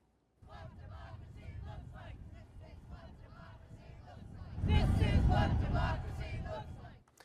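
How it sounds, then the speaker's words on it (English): Hundreds of protesters at the South Carolina Statehouse in the capital city, a steady crowd murmur that rises into louder cheering and shouting partway through before it fades. "the crowd was energized, holding up signs like "No Kings" and "Hands Off.""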